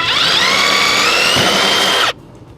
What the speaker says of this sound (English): So I'm going to pre-drill the holes in the metal